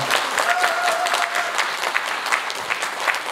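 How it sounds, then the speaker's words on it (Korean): A lecture audience at a committee launch event claps warmly for a historian, a dense burst of many hands that holds steady, with a brief faint tone early on. "전용 교수님께 다시 한번 뜨거운 박수 부탁드리겠습니다."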